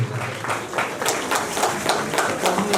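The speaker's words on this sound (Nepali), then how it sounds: "सम्पूर्णले ताली बजाएर उहाँहरूलाई हौसला प्रदान गर्नलाई अनुरोध गर्दछु" A crowd claps at the 12th annual general meeting of Arpan Savings and Credit Cooperative, a dense, steady patter of many hands that continues at even strength throughout.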